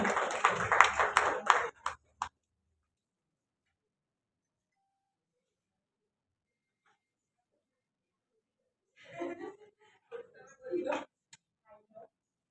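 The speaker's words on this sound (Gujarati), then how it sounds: "જોરદાર તાળીઓથી સ્વાગત કરીએ એમનું" Applause from an audience at an awards event greets a film director walking on stage, a short burst of clapping up front, then a long quiet gap before a second scattered round of claps near the end.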